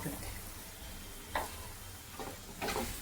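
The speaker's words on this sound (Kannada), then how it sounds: "ಈಗ ಲೋ ಫ್ಲೇಮಲ್ಲಿ ಇದನ್ನು ಫ್ರೈ ಮಾಡ್ತಿದ್ದಾರೆ." Egg fried rice frying on a low flame, a soft continuous sizzle broken by a few short scraping stirs of a spatula against the pan, with no speech.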